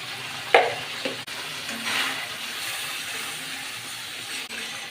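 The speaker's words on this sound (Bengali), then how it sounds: "মশলাটা মাছটার সঙ্গে ভালো করে কষিয়ে নেব" Prawns and spice paste are sautéed in a pan: a sharp utensil knock at the start, then a steady, close sizzle with occasional stirring scrapes.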